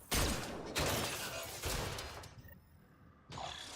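Pistol gunfire in the sci-fi shooter Mass Effect: Andromeda: four loud, close bursts of shots, each ringing out before the next, with a short lull near the end and no voices.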